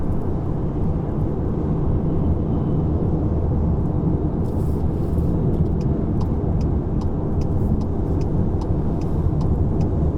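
Inside a Volkswagen Passat Elegance with a DSG gearbox overtaking on the road, a steady, loud low-pitched drone of engine and road noise continues with no talk.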